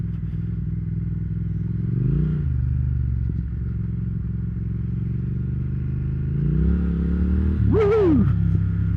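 A 2020 Triumph Speed Twin motorcycle riding along, with a steady, close engine drone and wind rumble throughout, swelling briefly near the middle and again with a rising rev toward the end.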